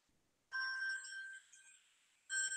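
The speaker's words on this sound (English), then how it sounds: "Got a phone call." A phone rings with a bright electronic tone, one long burst that fades and then starts again, heard alone in a quiet room.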